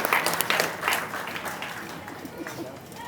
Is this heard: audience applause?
yes